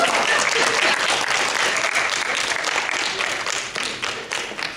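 An audience at a poetry laureate program applauds a young poet, with steady dense clapping that fills the whole stretch and begins to thin toward the end.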